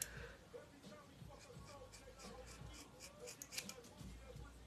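Faint, quick snips of scissors cutting long hair during a home layered haircut, soft and close with light rustling between cuts.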